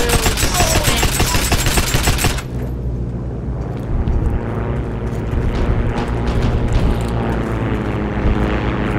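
Multiplayer battle in the Heroes and Generals video game: loud, continuous gunfire mixed with a droning aircraft engine, and a harsh burst of fire at the start giving way to steady rattling shots.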